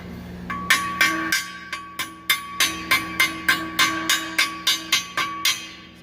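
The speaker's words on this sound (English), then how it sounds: "Sometimes I can get it to pop off in 2 or 3 hits in one big piece" A hammer chips slag off a fresh weld in a quick series of sharp, ringing metallic strikes, about a dozen evenly spaced hits, close and fairly loud with no talking.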